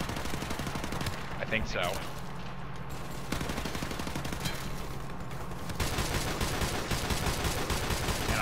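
Rapid gunfire from Call of Duty Modern Warfare Remastered, loud and continuous throughout as dense bursts, with a voice speaking briefly over the shots.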